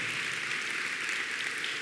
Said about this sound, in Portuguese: você pode aplaudir ao Senhor com força.